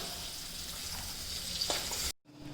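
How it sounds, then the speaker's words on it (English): Potatoes fry in hot oil seasoned with red chili powder and turmeric, giving a steady close sizzle that cuts off abruptly near the end, leaving a faint low hum. "So now I'm frying the potato"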